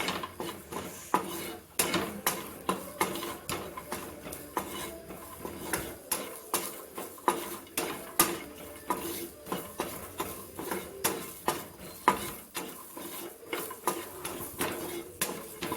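A spoon repeatedly scrapes and knocks against a pan as okra and potato curry is stirred and fried, steady rhythmic clinks and scrapes close up over a faint sizzle, with no talk.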